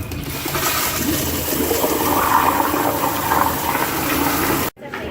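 A dual-flush, water-saving toilet flushes nearby on a brewery tour, with a loud steady rush of water that cuts off abruptly near the end.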